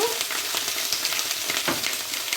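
Asparagus sautéing in a hot pan with salt and pepper, a dense, close, steady sizzle with faint stirring scrapes, no voices.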